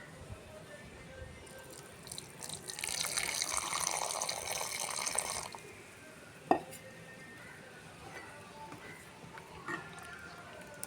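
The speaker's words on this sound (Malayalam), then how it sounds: "ഈ വരട്ടി വെച്ച പഴത്തിലേക്ക് ശർക്കരപ്പാനി ഒഴിച്ച് നന്നായി കട്ടല്ലാതെ ഇളക്കിയെടുക്കുക" Thick jaggery syrup pours into a pan of fried plantain with a brief liquid rush, followed by quiet stirring and a sharp clink of a utensil.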